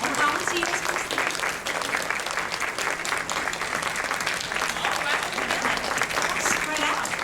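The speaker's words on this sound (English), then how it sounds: "So I can applaud you. We can applaud you." A hall audience applauds hotline volunteers at a 2017 celebration, giving dense, sustained clapping with a few cheers mixed in. The applause runs loud and steady throughout, and indistinct voices come through underneath it.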